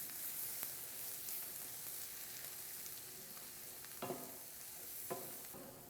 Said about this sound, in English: We're going to add the cream and stir that in.